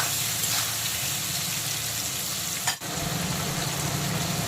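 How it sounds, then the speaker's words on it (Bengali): Chopped onion, tomato and green chili sauté together in a hot pan, giving a steady, close sizzle throughout with a brief dip near the end, probably from stirring. "পেঁয়াজ টমেটো আর কাঁচা লঙ্কাটাকে একসঙ্গে কষিয়ে নেব, ভাজা ভাজা করে নেব"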